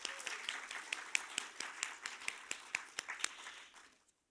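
Applause at a town meeting: a small gathering's scattered hand claps, fairly quiet and somewhat distant, with distinct individual claps over about four seconds before stopping abruptly.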